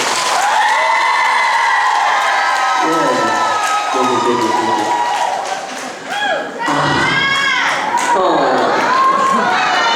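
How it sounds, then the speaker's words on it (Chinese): A theater audience at a live Taiwanese concert in Tainan's Yongcheng Theater cheers, with high-pitched screams and shouts riding over a loud, dense wash of applause that dips briefly near the middle before surging again. "是不是给自己跟我们永城戏院的掌声加尖叫声"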